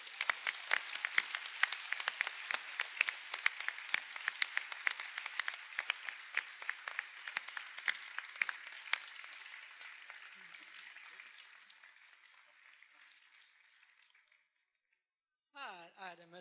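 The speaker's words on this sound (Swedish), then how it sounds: "Jag hoppas att ni alla ger en riktigt, riktigt varm applåd till vinnaren" Warm audience applause for award winner Gudrun Norstedt, honoured with a merit medal at a 2014 spring meeting: dense, steady clapping from a crowd that fades out over about fourteen seconds, followed by a brief voice.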